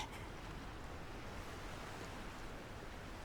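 Ocean waves in the visual novel Chaos;Head Noah, a faint, soft, steady wash of surf with no clear breaking crests and no voices.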